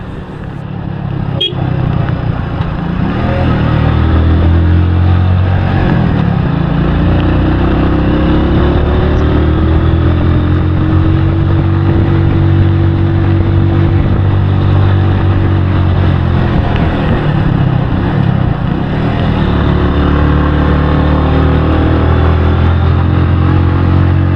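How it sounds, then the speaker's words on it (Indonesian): A Kawasaki W175 motorcycle engine labours steadily up a long, steep mountain road near Dieng, a loud, continuous low drone with rising and falling pitch as it strains under load, heard close with wind rush. "Dan mesin motor sudah kedengaran kerja ekstra di sini."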